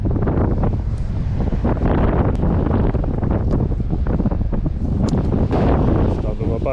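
Strong wind on a winter shore in Northumberland buffets the microphone with heavy, continuous low rumbling and gusty roar, loud and close, with surf faintly beneath.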